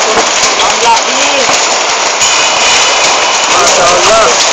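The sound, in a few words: hail falling heavily on a surface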